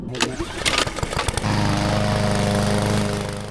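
A PowerSmart 22-inch self-propelled lawn mower runs loud and close, a few clattering knocks giving way to a steady, droning engine hum as it mows.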